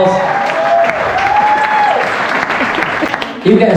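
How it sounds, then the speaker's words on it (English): Studio audience breaking into sustained applause, a thick wash of many hands clapping at once, loud and unbroken, with a voice briefly heard over it. "Give them a round of applause."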